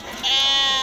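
Sheep bleat at a livestock market in Souk Lkhemis Timahdit, Morocco: one close, loud, sustained bleat that swells after a brief softer start, with no talking.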